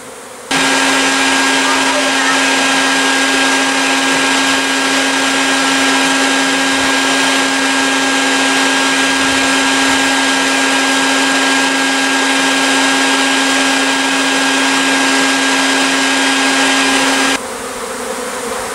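Vacuum cleaner sucking up a bee swarm: a loud, steady motor whine with a constant tone runs for about seventeen seconds alone, then cuts off abruptly near the end.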